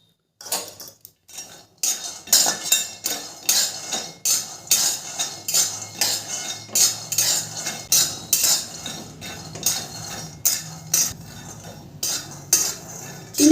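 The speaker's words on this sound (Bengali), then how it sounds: "গ্যাসে একটা কড়াই বসিয়ে দিয়েছি। এই চিনেবাদামটা আমি ভেজে নেব।" Peanuts dry-roast in a wok, with a spatula scraping and clattering against the metal in steady repeated strokes, close and fairly loud, no talk.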